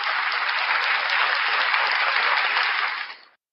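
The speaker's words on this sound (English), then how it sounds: "round of applause for Black Heart Night" A crowd applauds steadily and loudly for Black Heart Night, a dense wash of clapping that holds for about three seconds before fading out quickly.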